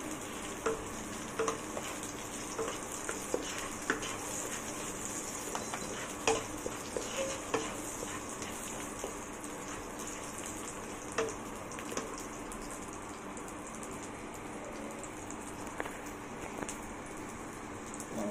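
Garlic frying in a pan for Filipino garlic fried rice, a steady fine sizzle with occasional stirring scrapes, moderately close and with no talk.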